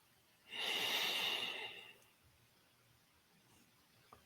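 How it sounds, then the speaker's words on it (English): A single slow, close breath in during a guided meditation, a soft airy inhale lasting about a second and a half before fading into quiet room tone. "Breathe in."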